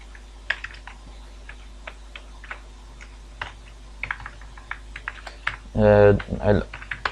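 Keys clack on a computer keyboard during an HTML coding lesson, with irregular taps and short bursts scattered across the clip, followed near the end by a brief spoken voice.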